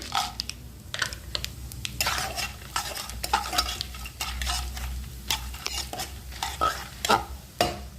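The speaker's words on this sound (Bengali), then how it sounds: "ফোড়নটা হয়ে গেছে, এবার আমি বড়িগুলো দিয়ে দেবো" Lively frying crackle throughout, with dense spitting sizzle and sharp scraping clicks of a utensil moving lentil dumplings around in hot oil, close by.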